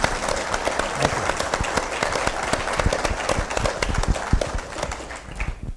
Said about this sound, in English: So I think we need to give him another round of applause